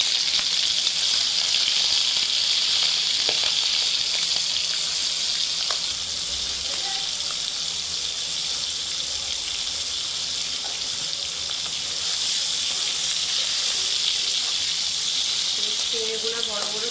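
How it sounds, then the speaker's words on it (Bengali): Turmeric- and salt-coated prawns, fairly large ones, frying in hot oil with a steady, loud, even hiss that runs the whole time, with faint clicks and bumps beneath it. "এক এক করে এটা ভেজে নেব।"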